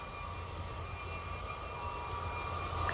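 A Hornby Class 755 FLIRT model train in Greater Anglia livery climbs an incline on a model railway layout, giving a steady, continuous motor whir and rolling wheel hum with no voices.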